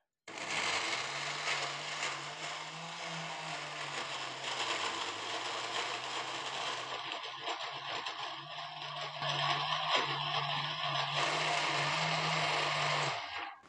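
A blender whirs steadily for several seconds blending mango with sugar, its motor pitch wavering as contents churn, then shuts off abruptly at the end.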